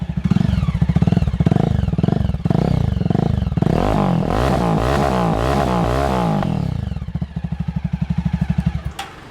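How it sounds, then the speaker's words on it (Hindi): Jawa 42 2.0 motorcycle with a razor exhaust, loud and close: a lumpy idle, then several sharp throttle blips and revs that rise and fall before settling back to a thumping idle. "अब मैं आपको इसको सुना रहा हूँ इसकी एग्जॉस्ट की आवाज़।"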